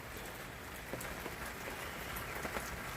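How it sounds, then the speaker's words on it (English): Rain falls steadily in an outdoor park, a dense even hiss with scattered nearby drops pattering on surfaces, moderately quiet and unbroken throughout. "it's raining pretty good now"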